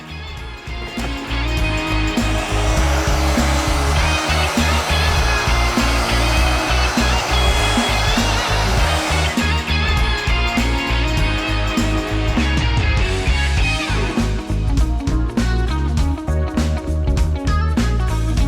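Hair dryer blowing steadily and loudly to dry paint on a stencil on a salvaged cellar cabinet, a constant roar that runs unbroken from start to finish with no talk.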